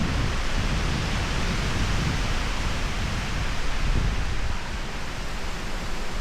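Strong wind roars steadily through a forest campsite, a dense, continuous broadband rush that stays loud throughout with no voices.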